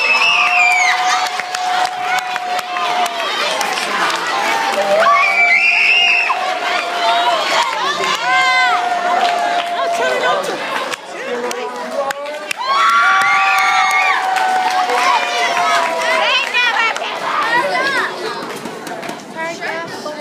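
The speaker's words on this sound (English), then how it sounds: "Give her a round of applause." A crowd of children cheers and shouts at a school question-and-answer session, with loud, overlapping young voices rising and falling for about twenty seconds.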